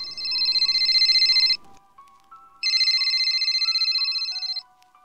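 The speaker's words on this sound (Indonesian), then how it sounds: "Suara telepon berbunyi memecah kebingungan mereka." A telephone rings in two long electronic bursts separated by a pause, loud and close, while a low sustained tone hums underneath.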